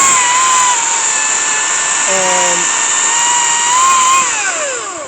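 A cordless battery chainsaw cuts through firewood, its electric motor holding a steady high whine throughout with a brief drop in pitch midway as the chain bites, then winding down near the end.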